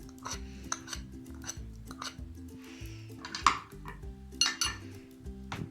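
A metal spoon clinks and scrapes against a pressure cooker while spices and a spoonful of salt are stirred in for Punjabi kadhi pakora, giving a run of irregular close knocks and clatters with no talk.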